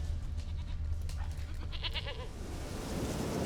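A goat in The Witcher 3 bleats mid-clip, a wavering nasal cry over a low game ambience, close and fairly clear.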